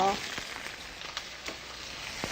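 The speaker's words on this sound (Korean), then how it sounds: "이 기름에다가 우리 이 재료를 넣어요" Mixed ingredients go into hot ginger-infused oil and stir-fry with a steady, fairly quiet sizzle, broken by a few soft clinks and scrapes of a utensil.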